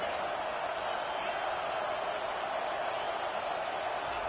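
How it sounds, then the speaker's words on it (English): A stadium crowd at an NCAA football game roars steadily during a third-down defensive stand, a dense continuous wash of cheering that holds at a constant level throughout without breaks. "Decibels rising as the crowd gets behind this defense on third down."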